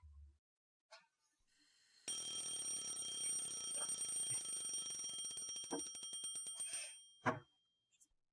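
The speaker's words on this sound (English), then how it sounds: "I shut off the alarm by reflex" Alarm clock ringing in the visual novel game Lucy The Eternity She Wished For, a loud metallic bell rattle that runs steadily for about five seconds and then cuts off abruptly with a click, with no talk.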